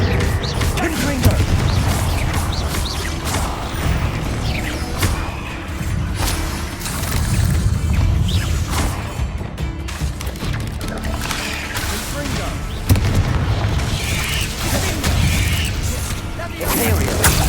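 Confringo fire spells in the game Hogwarts Legacy on Xbox Series X, dense loud blasts and crackling bursts layered over continuous battle noise and music, with a voice calling out spells throughout.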